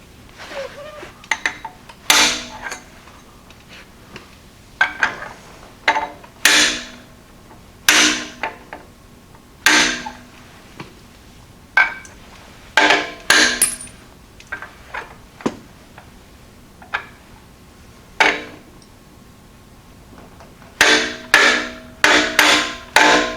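A seal is hammered into the timing cover of a 360 Magnum engine on a Barracuda, with sharp metallic blows struck close by, singly and in quick bursts, separated by short pauses.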